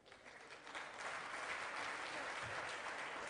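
Steady applause from a conference audience, a dense clatter of many hands clapping that swells slightly and holds, with no speech over it.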